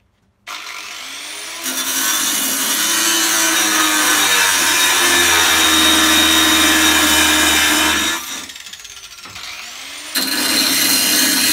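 A power tool cuts the edges off a rough metal bracket with a loud, sustained grinding rasp close up. It stops briefly near the end, then starts again.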